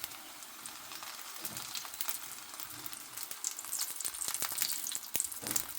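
Millet flour dhebra flatbread frying in oil on a pan over low gas, with steady close sizzling crackle that grows busier and louder toward the end, no talking.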